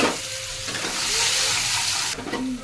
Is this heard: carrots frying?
yes